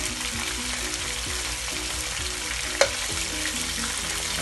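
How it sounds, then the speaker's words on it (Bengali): Baim fish frying in hot oil in a pan, a steady close crackling sizzle throughout with one brief sharp pop near the end. "এইভাবে মাছটা ভাজা হচ্ছে, একটু হালকা ভাজা করবো, একদম কড়া ভাজা করবো না"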